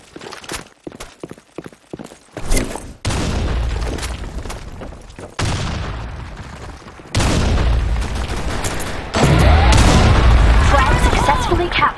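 Grenades blast one after another in a capture-the-flag shooter match, several loud, booming bursts that swell and linger, mixed with gunfire and game chatter.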